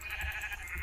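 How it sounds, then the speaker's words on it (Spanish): Sheep bleat in a video game, a steady nasal bleating tone over a constant bright electronic hum with a couple of low thumps. "Miren que encuentro ovejas."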